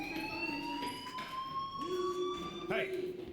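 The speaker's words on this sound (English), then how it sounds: "Hey, do you hear that fire alarm?" A fire alarm rings steadily in the video game Life is Strange, a sustained electronic tone held throughout the clip at moderate loudness, with game voices briefly over it.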